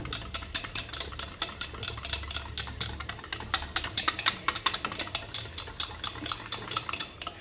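Curd (yogurt) being whisked for curd rice in a bowl, a fast, steady scraping and tapping rhythm that stays close and fairly loud with no talk.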